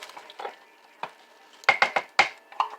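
Canned tomato paste being stirred into sauce in a pot, with a series of sharp utensil scrapes and knocks against the pot's side, close and fairly loud, clustering near the end.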